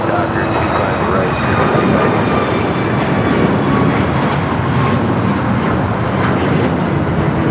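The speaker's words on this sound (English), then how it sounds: "United 737 MAX rolling down at 25 at right" A United Boeing 737 MAX jet rolling down runway 25 right at LAX makes a loud, sustained engine roar with a broad rushing wash, steady throughout, while a voice talks over it.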